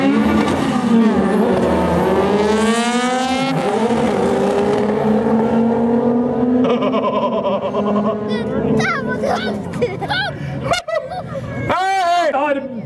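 A Mercedes 2.5 race car at a Speednight event in Tromsø drives at speed, its engine droning loud and steady with rising harmonic sweeps, while a commentator talks over it throughout and a brief sharp crack cuts in near the end.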